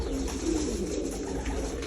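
Pigeons coo steadily in a pigeon farm, a continuous low murmur of many birds close by that fills the whole stretch without pause.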